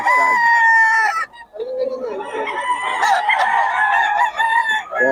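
A bull stag gamecock crows loud and close, one long strained call, a brief pause, then another drawn-out crow with ragged harmonics.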